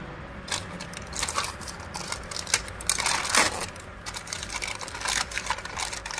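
Plastic timing chain guide parts for a TVS Sport motorcycle being unpacked from their package, with close crinkling, rustling and clicking of plastic and wrapping in irregular bursts, no talking.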